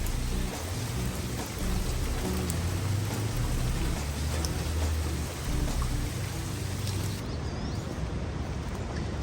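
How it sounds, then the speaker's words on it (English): Steady rain falls across a backyard garden on a windy, stormy day, a dense continuous hiss of drops close by with no talk over it. "Another rainy day in Palangeau Park."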